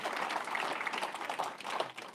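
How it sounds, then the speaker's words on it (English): Conference audience at a fintech event applauding the session chair, a quiet, steady patter of many hands clapping at some distance, lasting about two seconds without a clear end. "Can we get a round of applause for Julia for doing a great job of chairing?"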